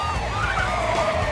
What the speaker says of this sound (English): These sirens are getting louder.